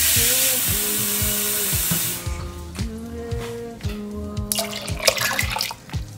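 Water pours into a cooking pot of peeled, chopped potatoes, a loud steady rush that stops after about two seconds, followed by wet clinks and knocks of the pot with a low repeating tone in the background.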